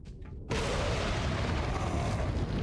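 A grenade explodes in Resident Evil 4 on the Wii, a sudden loud boom after a short quiet moment, followed by a sustained rumbling roar.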